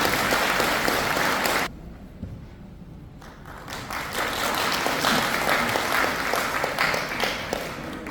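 Applause from a seated audience at a Korean association lecture in a hotel grand ballroom, steady dense clapping that dips to a quieter patch midway before swelling back to full strength.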